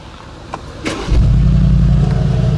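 A 2019 Mercedes-AMG G63 V8 starts up with a brief starter whirr, then fires into a loud, deep burbling idle that holds steady close by, after a couple of faint clicks.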